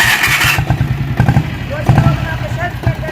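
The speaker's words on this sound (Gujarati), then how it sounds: "સેલ્ફ સ્ટાર્ટ ડીઝલ બુલેટ બનાવેલી છે" A self-start diesel Royal Enfield Bullet motorcycle cranks and catches, then runs with a loud, close, thumping low beat and clattering pulses. A voice is heard over the engine.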